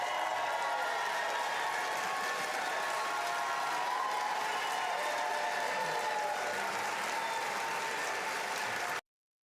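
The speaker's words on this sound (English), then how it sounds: "I don't know if they're cheering that she lost or what" An audience bursts into sustained applause and cheering right after a vote tally is read for Kamala D. Harris of California, a steady, distant-sounding roar of clapping that holds evenly for about nine seconds before cutting off.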